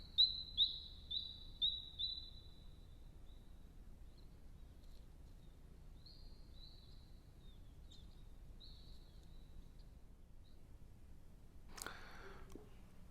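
Bowerbird calls ring out in a quiet bush setting: a few bright, high chirps early on, softer scattered notes later, and a brief sharper burst near the end, all fairly faint over a low hush.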